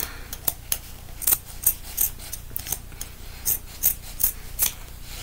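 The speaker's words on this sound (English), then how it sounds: "You're going to want to cut inwards and stop right when your scissors like look like they're going to chop the top of the mesh." Scissors snip through mesh fabric for a felted mask, a series of crisp, close metallic cuts in an uneven rhythm, about a dozen snips over a few seconds with quiet pauses between, no speech.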